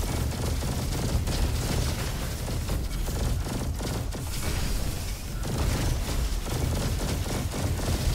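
Pulsar rifle gunfire and chained explosions in the shooter game Roboquest form a loud, unbroken barrage of rapid shots and booms that stays dense and intense throughout, with no talking.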